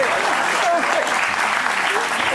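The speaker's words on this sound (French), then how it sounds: "applaudissements pour lui" A French TV studio audience breaks into applause, a steady, moderately loud patter of clapping with voices talking over it.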